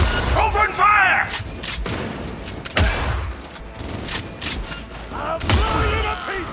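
Gunfire in Cyberpunk 2077 during a fight in a hallway: a few sharp shots and booms scattered through a noisy battle, with shouting voices over the top.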